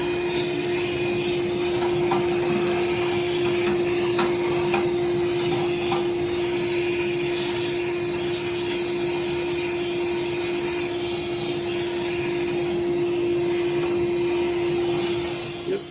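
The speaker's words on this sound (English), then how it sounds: "We're now going to vacuum all the debris out and give it a good rinse with water." A vacuum roars continuously while sucking debris out of a neglected Lochinvar Knight boiler during maintenance, loud and steady with a strong whining tone and faint scraping under it.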